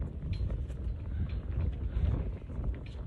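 Outdoor wind buffets a microphone under a gazebo, a loud, low rumbling roar that swells and surges continuously with no voice over it.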